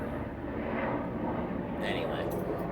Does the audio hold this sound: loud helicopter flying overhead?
yes